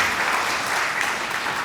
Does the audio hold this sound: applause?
yes